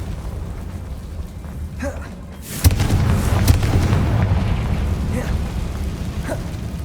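A Confringo spell blast in Hogwarts Legacy erupts with a sudden loud boom near the three-second mark, followed by a sustained rumbling roar that lingers over a steady low background.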